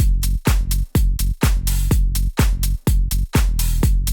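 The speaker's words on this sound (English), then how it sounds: "I quickly created this drum loop." Punchy electronic drum loop with booming kicks and a sharp 909-style clap, looping at a steady tempo, loud and close with no voices.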